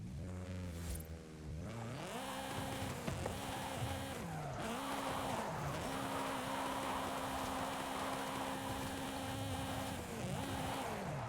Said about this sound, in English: This kind of sounds like a Honda, but this is the Turbo Rally.